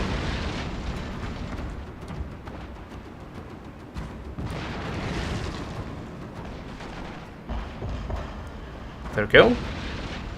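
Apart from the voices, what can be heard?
explosive shell artillery fire in the video game Fall of the Samurai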